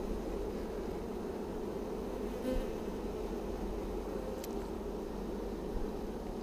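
Honeybees hum at an open hive with a large queen cell on the frames, a continuous dense buzz of many insects close by, steady throughout with a couple of brief louder passes.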